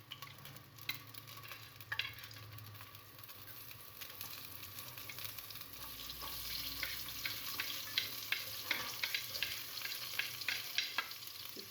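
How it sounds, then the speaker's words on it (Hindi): Garlic and onions frying in a home kitchen pan give a continuous, fairly loud sizzle with frequent scraping and stirring clicks that build slightly toward the end, with no speech over it. "ये मैंने प्याज और टमाटर काट लिए हैं और लहसुन को कर रही हूँ फ्राई।"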